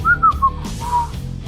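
Someone whistles a short descending tune with a few bright, clear notes, then holds one lower tone, all close and fairly loud and with no talking.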